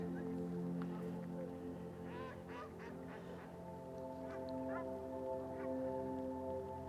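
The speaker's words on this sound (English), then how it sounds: "The swans and the geese and the ducks." Swans, geese and ducks call at a wetland heron habitat in Chilliwack, British Columbia, scattered honks and quacks rising over a steady droning background.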